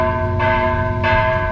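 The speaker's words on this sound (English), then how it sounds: "I'm checking my watch because the church bell's going off" A church bell in Mexico rings loudly with a sustained, humming tone, two struck peals swelling about half a second apart over a steady ringing drone.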